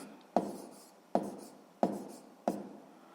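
A pen writes numbers by hand on paper while working a decimal addition exercise for sixth-grade math, making four short, crisp strokes at an even pace, close and quiet, with no talking.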